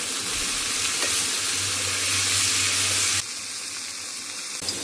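Raw peanuts go into a hot frying pan and are stirred, a loud, continuous sizzle with scraping movement that shifts in tone partway through.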